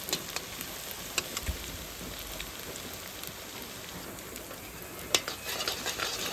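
Beaten eggs frying in a pan are stirred and tossed, a low steady sizzle broken by scattered sharp spatula taps and scrapes against the pan, close by with no speech.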